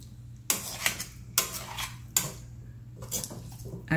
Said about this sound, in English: I'll just close the lid and allow it to cook for some time.